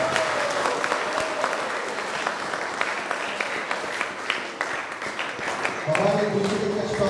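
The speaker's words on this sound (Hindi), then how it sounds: "तालियों के साथ इनका वेलकम करें।" An audience at an industrial training institute convocation applauds a guest of honour with sustained, full crowd clapping that runs throughout, slightly swelling near the end with faint voices underneath.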